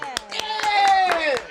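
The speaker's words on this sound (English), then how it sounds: "let's clap it up, everybody" A handful of sharp, scattered claps from a small group, about five uneven hits over a second and a half, with a voice running underneath them.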